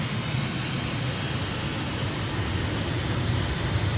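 Steady roar of an aircraft engine at full power as a plane takes off down a sloping downhill runway in Venezuela, a continuous close, loud drone with a thin high whine above it.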